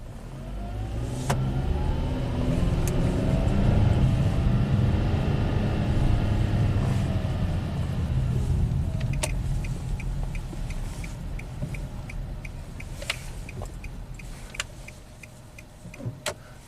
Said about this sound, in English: Let's do an uphill quick start here.